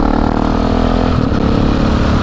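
A KTM 690 SMCR single-cylinder supermoto engine runs close by with a steady, loud rumble, holding an even idle-to-rev drone throughout without distinct throttle blips.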